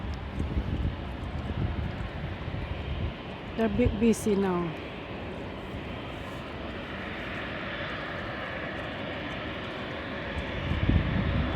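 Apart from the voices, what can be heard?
British Airways airplane taxiing at London City Airport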